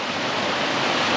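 Spring water spills steadily over a small drop, a close, continuous broadband rush with no breaks or other sounds.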